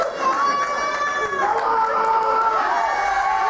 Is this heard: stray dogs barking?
no